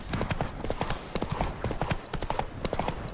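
Roach, the horse in The Witcher 3 video game, gallops with fast, steady clip-clop hoofbeats in close repeating bursts, loud and near across the whole stretch.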